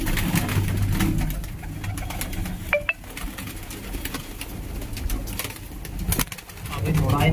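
Pigeons of many breeds cooing inside a loft, soft low coos repeating near and far, with a brief metallic clink and someone talking in the background.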